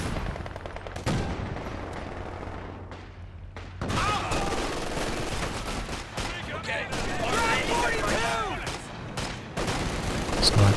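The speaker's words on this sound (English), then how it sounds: "Blasting away at the building." Battlefield gunfire in the strategy game Company of Heroes 2: rapid bursts of machine-gun and rifle fire pound a building, with dense volleys and a few heavier booms, mixed with game voices and battle noise.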